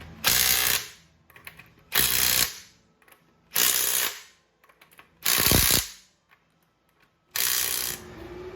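A car's wheel lug nuts are tightened in a second check during a tire rotation, with five loud, close bursts of rapid ratcheting, each about half a second long, separated by short quiet gaps.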